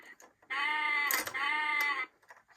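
A short electronic goat bleat plays from a 2003 VTech ABC Tap Tap Bus toy, a single wavering tone lasting about a second and a half, with faint clicks around it.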